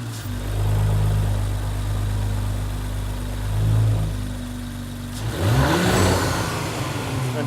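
An Audi B9 car fitted with a DT Power tuning box, its engine idling steadily up close, with a slight swell in revs around four seconds and then a rising, revving surge near the end.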